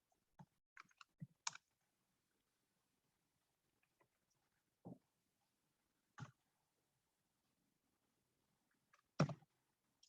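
Code typed on a computer keyboard: a few quiet, isolated key clicks, some in quick pairs, spread out with long silent gaps between them and one sharper double tap near the end.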